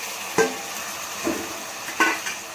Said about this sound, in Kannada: ಮಟನ್ ಹಾಕೊಂಡು ಚೆನ್ನಾಗಿ ಹಿಂಗೆ ಫ್ರೈ ಮಾಡ್ಕೊಳ್ಳಿ